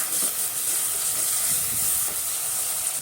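Raw banana sautés in a pan with ground cumin, pepper and garlic paste, a steady close hiss of frying running unbroken throughout.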